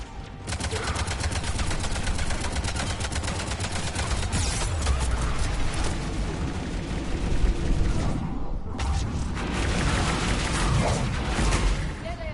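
Sustained automatic weapon fire fills a Mass Effect 3 battle, loud rattling volleys with booming impacts running nearly nonstop, broken by a brief pause before more heavy shooting, with voices speaking amid the din.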